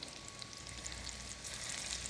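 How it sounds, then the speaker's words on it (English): Meatballs fry in a pan with a dense, steady sizzle and crackle, close and continuous, with no voices. "our Italian Mama's meatballs have been frying for about 3 minutes"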